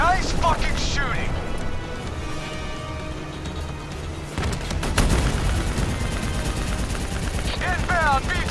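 Sustained heavy gunfire during a tank escape in Call of Duty: Black Ops III, loud and continuous with rapid bursts, blasts and rumbling under frantic shouted voices.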